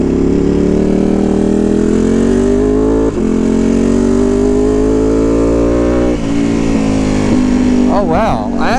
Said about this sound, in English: you can hear the engine now